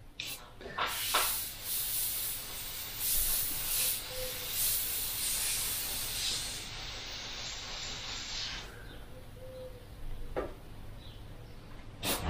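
An airbrush run at 25 PSI gives off a continuous airy hiss of atomized spray that holds steady for most of the stretch. Faint clicks and small handling sounds break through now and then.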